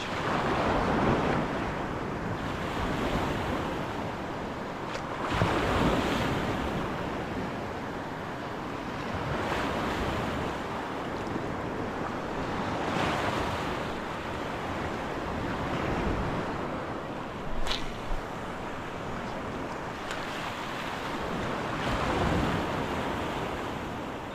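Ocean surf breaks at Boca Chica Beach on the lower Laguna Madre while wind buffets the microphone, waves swelling and crashing in slow repeated surges under a constant windy hiss, with no talk.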